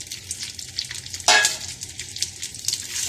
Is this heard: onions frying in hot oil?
yes